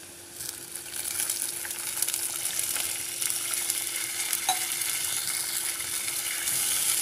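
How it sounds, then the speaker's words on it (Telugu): A pan of pesarattu fries with a steady, faint sizzle and crackle, with no speech and a slight swell in hiss toward the end as water goes in. "ఇది ఫ్రై అయిపోయి నేను ఒక గ్లాస్ నీళ్ళు తీసుకుంటున్నాను"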